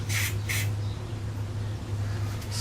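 Short bursts of spray paint hiss onto a 3D printed Darth Vader helmet, two quick sprays close together at the start and another near the end, over a low steady hum.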